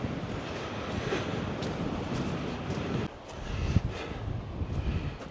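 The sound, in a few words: sea breeze wind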